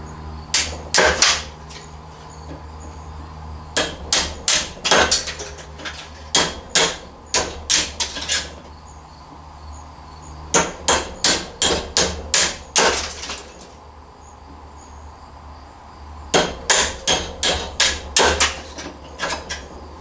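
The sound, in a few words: hammer knocking copper out of electric motor stator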